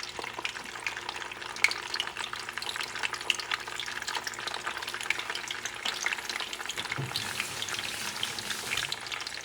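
Ripe plantain pieces sizzle in hot oil in a pan over medium-high heat, a steady crackling, bubbling hiss that runs without a break, with a brief stirring clatter partway through.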